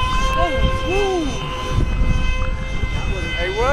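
A radio-controlled electric ducted fan Sukhoi jet with thrust vectoring flies overhead, its steady high-pitched whine droning throughout under wind noise while people talk outdoors.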